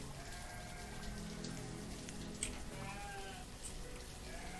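Sheep bleating in the village-building game Banished, several quavering calls over a soft rain-like hiss of game ambience, faint and steady, with no one speaking.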